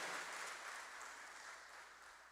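Church congregation applauding during a celebration service, a steady broad wash of clapping at moderate distance that holds evenly and fades slightly toward the end.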